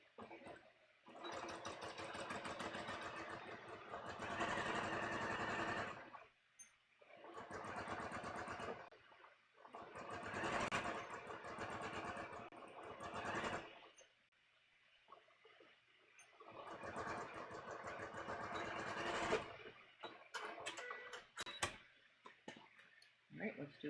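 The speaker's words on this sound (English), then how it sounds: "So again, we're just sewing this at a 1/2 inch." A sewing machine runs a half-inch seam on a bodice sloper in four long bursts of whirring stitching, separated by brief quiet gaps, fairly near and with no voices.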